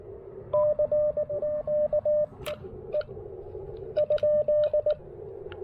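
Morse code CW on the 17 meter band comes through an Icom IC-705 radio as a clear, steady sidetone keyed in short and long beeps, with two runs of characters separated by a gap over faint static.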